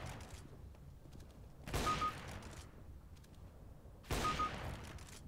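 Two gunshots a couple of seconds apart in the game Counter-Strike: Global Offensive, one of them a headshot. Each is a short, muffled burst rising above a quiet steady game ambience, with no voices.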